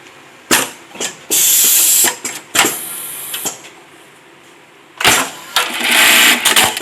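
A MAICA GL-21 automatic label sewing machine sews a single label folded in half. Loud, close mechanical runs of stitching start and stop repeatedly, with quieter whirring between bursts and no talking.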